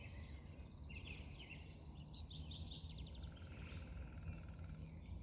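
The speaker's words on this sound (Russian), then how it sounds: "Иду вдоль реки и наслаждаюсь картиной, пением птиц." Birds sing faintly along the Tuskar River, with scattered chirps and short trills over a steady low outdoor rumble and no talking.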